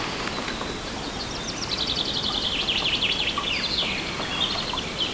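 Chaffinches sing in woodland, with bright descending trills and chirps rising over a steady outdoor hiss and faint rustling, moderately close and without talk.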